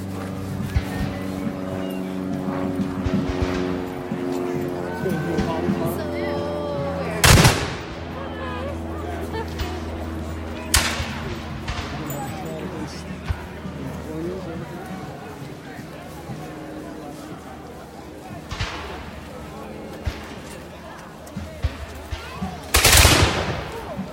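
Patriots Day reenactment gunfire: a few sharp, loud musket-like shots spaced several seconds apart over a constant low engine-like rumble and crowd noise, with people talking nearby.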